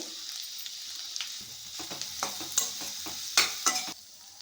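Okra pieces cook in hot oil with a quiet, continuous sizzle, punctuated by several sharp scrapes and taps of a spatula against the pan.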